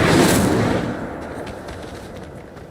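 An Incendio fire spell cast in Hogwarts Legacy lands as a loud burst and then fades out over a couple of seconds into a fizzling tail, with no one talking.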